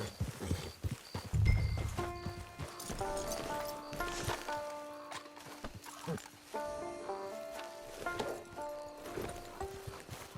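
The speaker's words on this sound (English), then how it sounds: "Get your horse." Horse hooves in the Red Dead Redemption 2 video game, a steady clip-clop of riding over a busy background of game music and ambience, moderately loud with a heavy thump near the start.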